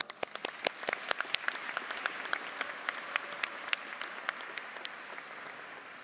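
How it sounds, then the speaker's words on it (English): Audience applause at a university graduation ceremony in Melbourne, honoring graduates' parents and family: many distinct claps over a steady wash of hand-clapping, fairly distant and moderate in level, with no one speaking. "So please give them a round of applause."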